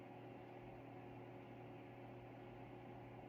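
A household refrigerator runs with a faint, steady, low hum and soft hiss, heard alone with no other sounds.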